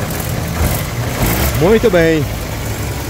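A used car's engine idles steadily at an open-air used-car fair in Caruaru, Pernambuco, a low continuous rumble that a man's brief speech partly covers.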